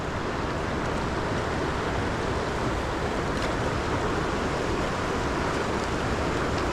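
The current of the Irelyakh river rushes in a continuous, dense, broadband roar, loud and steady throughout with no talking.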